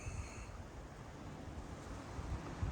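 Wind gusts across a yard during a light blizzard of windy snow, a steady broadband rush with low microphone rumble and a few buffeting thumps, faint and continuous, with no talking.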